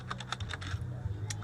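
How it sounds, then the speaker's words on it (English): Close, steady typing on a computer keyboard, with a quick run of light key clicks over a low background hum and no talk. "just take a look at what I am typing"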